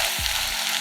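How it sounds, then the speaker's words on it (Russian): Lavash flatbread with melting cheese frying in a pan over low heat, a steady soft sizzle throughout, close and alone. "Жарим пару минут, чтобы образовалась поджаренная сырная корочка."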